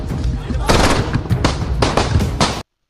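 Rapid bursts of gunfire, loud and close, rattle off in several dense volleys over about two and a half seconds before stopping abruptly, used as an effect for a shooting attack in Prayagraj.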